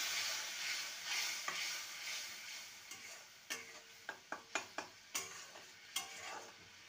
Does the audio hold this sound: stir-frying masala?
yes